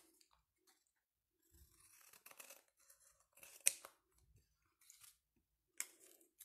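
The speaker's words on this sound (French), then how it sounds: "je vais venir ici couper la partie de mon triangle qui dépasse" Scissors snip through paper, trimming a triangle for a handmade card, in several short crisp cuts with brief pauses between them, close and quiet with no talk.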